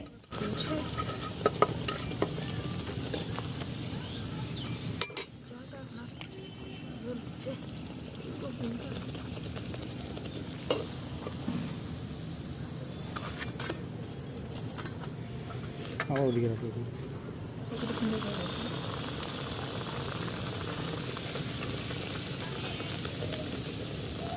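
Jaggery pitha cakes frying in oil one after another, a moderate bubbling sizzle running throughout with occasional clinks and stirring, and a voice talking over parts of it.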